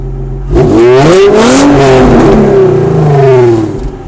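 A 2005 Infiniti G35 coupe with a 3-inch exhaust idles, then revs up sharply, holds a rising, roaring tone for about three seconds and settles back down, loud and close.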